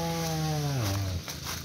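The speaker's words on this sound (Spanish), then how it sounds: "aquí viene haciendo pedazos con la motosierra" A chainsaw roars nearby while cutting up pruned avocado tree branches, its engine pitch holding high and then dropping sharply as the revs fall away near the end.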